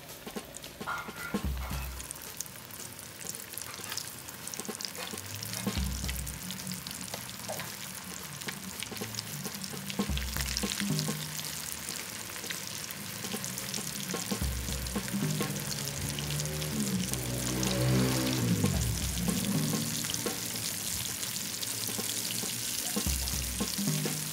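Pieces of chicken deep-fry in hot oil, making a constant, dense bubbling crackle close by with occasional soft knocks from the pot and utensils, and no speech.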